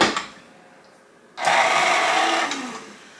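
Drained crushed pineapple is mixed into banana bread batter: a brief quiet stir, then a loud whirring motor runs for about a second before tapering off, with no voices.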